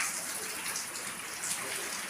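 Steady rain patters densely on a surface, an even hissing wash without breaks.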